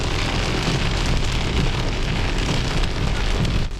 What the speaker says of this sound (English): It's hailing now, guys.